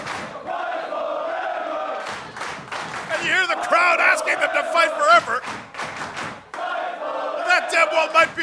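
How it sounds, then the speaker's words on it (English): Wrestling crowd at a live match chanting in unison for the wrestlers to fight forever, a loud rhythmic chant with thumps, while a commentator talks over it. "you hear the crowd asking them to fight forever"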